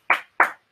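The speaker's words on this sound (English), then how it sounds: "I'm giving you a clap, a slow clap." Two slow, deliberate hand claps ring out alone, close and crisp, spaced about a third of a second apart with quiet between them.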